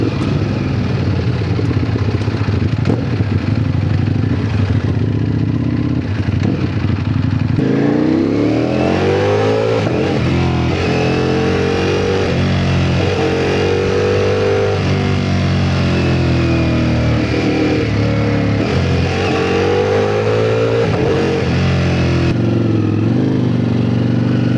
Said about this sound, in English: God, this exhaust.